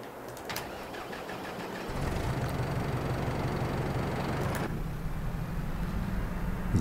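Tractor engine in the Farming Simulator 22 farming game starting up, then settling into a steady, loud, low idle that runs on alone without talk.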